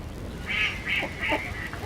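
A few short, nasal duck quacks, three or four calls in quick succession, close by against a quiet background.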